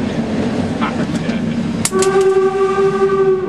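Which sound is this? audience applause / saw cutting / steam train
steam train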